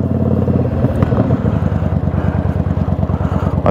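Yamaha V Star XVS 650 cruiser motorcycle riding, a steady, loud low engine rumble with a pulsing exhaust beat and wind buffeting throughout, no talking.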